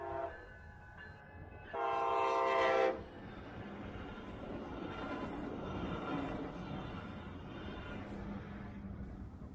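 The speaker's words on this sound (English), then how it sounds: "Here it is, passing the test train." Brightline passenger trains meeting on double track near Melbourne/Palm Bay, a brief loud horn blast near the start, then a steady rolling rumble of wheels and cars passing close by for the rest.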